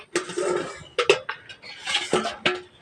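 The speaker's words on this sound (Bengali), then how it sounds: "এইদিকে ঢাকনাটা সরিয়ে দিচ্ছি" A metal lid is lifted off a cooking pot in a village kitchen while a vegetarian banana-flower (mocha) dish cooks, giving several close clanks and scraping clinks in quick succession.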